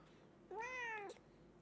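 A cat lets out a single short, nasal, duck-like squawk when gently squeezed, a near and fairly quiet cry of about half a second over a low background hum.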